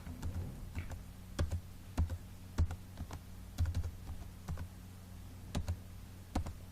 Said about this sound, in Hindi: ये आईडी कार्ड नंबर मैंने लिख दिया।